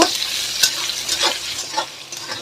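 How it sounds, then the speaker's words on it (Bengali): Tomatoes fried with salt in a pan for a chicken curry, with a steady close sizzle and a few sharp scraping stirs spaced through the short stretch, no voices. "এটাকে আমি লাল লাল করে ভেজে নেব"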